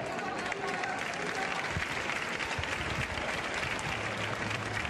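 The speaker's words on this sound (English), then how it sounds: "You hear the applause around the stadium here at the Johan Cruyff Stadium" Fans applauding around the Johan Cruyff Stadium during a Barcelona vs. Arsenal women's Champions League match, a continuous distant wash of clapping and crowd noise with a commentator talking over it.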